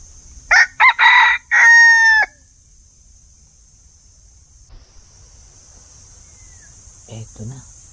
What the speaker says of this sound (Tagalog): tumilaok na ang ating pangati na to